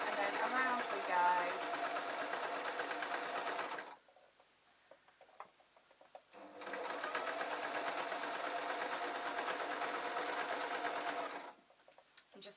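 Sewing machine stitching over the seam of a dog's Christmas stocking, a steady whirring run of about four seconds, a brief pause with faint clicks, then a second longer run before stopping again.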